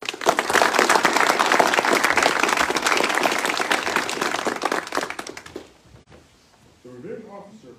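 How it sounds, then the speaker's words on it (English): Applause at an Army brigade assumption-of-responsibility ceremony, a dense burst of clapping that holds strong for about five seconds, then fades out before a voice resumes speaking. "Please give her a round of applause."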